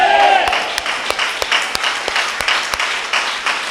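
A church congregation at a Sunday service applauds together. Clapping is steady at first, then thins into a run of distinct, evenly spaced claps while a reverberant background murmur continues.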